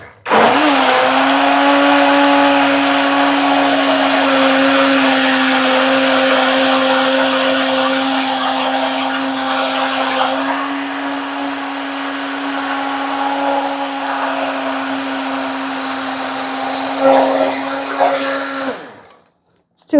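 A small countertop blender runs on smoothie ingredients with a loud, close, steady motor whine for nearly twenty seconds, shifting slightly in pitch before cutting off abruptly.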